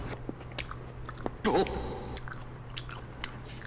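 A person bites into and chews a plum close to the microphone, with one crisp bite followed by soft wet chewing over a faint steady hum.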